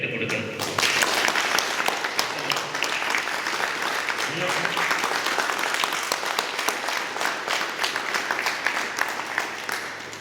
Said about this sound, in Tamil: நீங்க எல்லாம் ஒரு பலத்த கைத்தட்டு கொடுக்கணும்